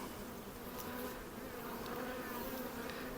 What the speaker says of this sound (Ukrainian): Так, пчелка тікає звідти.